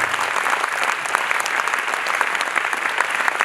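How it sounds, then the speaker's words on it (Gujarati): An audience at a drug awareness event in Gujarat gives loud, sustained applause for the children taking part, a thick crackle of many hands clapping continuously and close. "એકવાર આ બધા પાર્ટિસિપેશન માટે જોરદાર તાળીઓ થવી જોઈએ"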